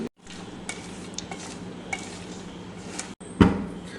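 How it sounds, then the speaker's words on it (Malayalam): Cooked tapioca being spread with a utensil over biryani in a pot: soft scraping and stirring against a low steady sizzle, close by, ending in a louder clatter of the utensil on the pot. "ബാക്കിയുള്ള കപ്പയും കൂടെ നമുക്ക് ഇതിൻ്റെ മുകളിൽ ഇട്ട് പരത്തി കൊടുക്കാം"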